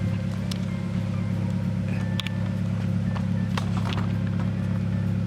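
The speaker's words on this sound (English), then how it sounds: "I'd hope to be able to do a cold start first of all" A Nissan Cube Z12 idles after a cold start through an exhaust with no rear muffler, giving a steady low drone close by, with faint clicks and knocks around it.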